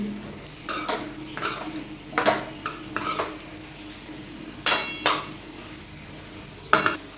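Cauliflower sabzi stirred in a pan after cooking under a lid, with a series of metallic clanks and scrapes of a spoon against the pan, some in quick pairs, close and intermittent over faint background noise.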